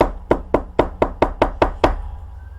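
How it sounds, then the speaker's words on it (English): Knuckles rap on the front door of a small one-story house: eight firm, evenly spaced knocks close by, each sharp and short, followed by quiet. "She jogged up the driveway to the front door of the cute one-story home and knocked on the door."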